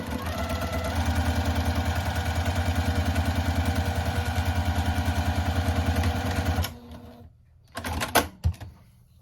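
Sewing machine stitching quilt pieces together at a quarter-inch seam for a baby quilt top, a loud, steady rapid mechanical chatter running for several seconds, then stopping, followed by a few brief handling clicks.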